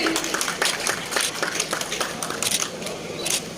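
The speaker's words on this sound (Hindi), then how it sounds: "जोरदार तालियों के साथ इनका हौसला अफजाई कीजिए।" A crowd claps steadily for NCC cadets at a national flag hoisting ceremony in Reasi, the scattered hand claps blending into moderate, continuous applause with a few louder bursts.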